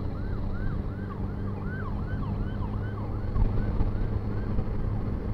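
A state trooper's police car siren wails in a steady, rising-and-falling cycle on the Capital Beltway, heard from a moving motorcycle amid constant road and engine rumble, growing slightly louder toward the end.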